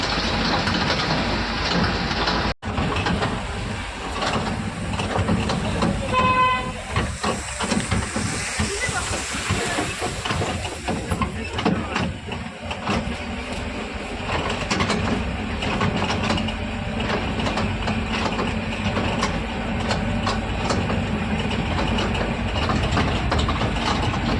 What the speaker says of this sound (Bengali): সঙ্গে আমরা উঠে পড়েছি ট্রেনে।